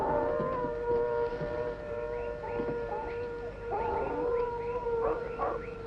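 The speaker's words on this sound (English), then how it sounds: "You know wild dogs?" Wild dogs howl in long, sustained, overlapping wails, several voices rising and falling together at a moderate distance, with a few short yips breaking through the chorus.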